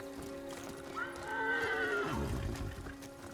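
A horse whinnies once, rising and falling over about a second, set against a low, steady background drone.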